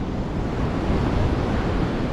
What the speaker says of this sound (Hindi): वहाँ की लहरें, अरब सागर की लहरें, बीच का नज़ारा।